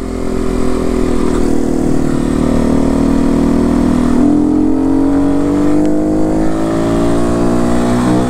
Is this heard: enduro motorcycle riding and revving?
yes